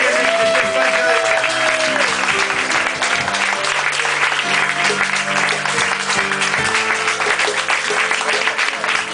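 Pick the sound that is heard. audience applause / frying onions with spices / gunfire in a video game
audience applause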